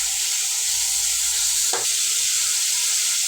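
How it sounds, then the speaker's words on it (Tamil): Onions sauté in oil in a pan, an even bright sizzle held steady, with one brief louder scrape of a stir partway through, close and without voices. "வெங்காயத்தை வதக்கி வச்சுக்கலாம்."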